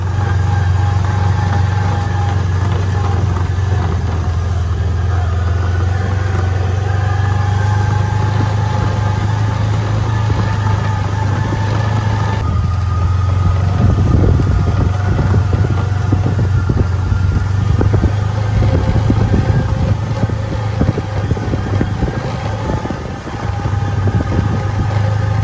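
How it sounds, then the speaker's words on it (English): A Kubota Sidekick utility vehicle idles and drives with a steady low engine drone, growing slightly rougher and busier partway through as it moves along, close and continuous with no talk. "I've got it loaded in the Kubota Sidekick, but let's go drive around"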